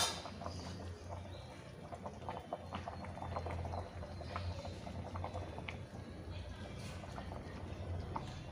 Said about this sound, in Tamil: இப்போ நமக்கு நல்லா குழம்பு கொதிக்குது.